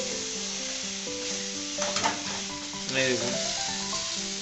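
Potato curry (alur torkari) sautés in a pan with a loud, steady sizzle close up, and a few stirring scrapes rise above it while a voice speaks briefly.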